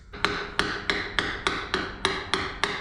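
Bearing seal being tapped into place on a 1957 Gard'n Mast'r tractor: eight evenly spaced, sharp hammer taps in a steady rhythm, close and clear, with no talking.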